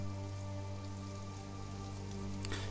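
Steady rain patters continuously in the survival video game Sheltered, blended with a low droning musical tone at moderate volume, with one brief sharper tick near the end.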